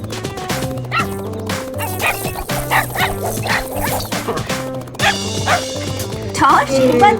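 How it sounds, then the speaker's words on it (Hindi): A cartoon dog barks and yips in quick bursts over busy animated background music, with voices talking in between. "बदमाश कुत्ता।"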